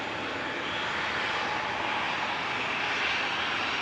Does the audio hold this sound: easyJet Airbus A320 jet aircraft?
yes